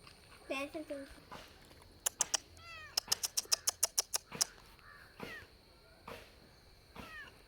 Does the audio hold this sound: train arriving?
no